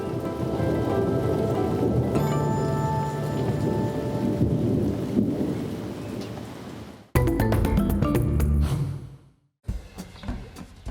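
Heavy rain pours steadily with rumbling thunder, a dense close hiss of drops on surfaces, broken by abrupt cuts into louder bursts of downpour near the end.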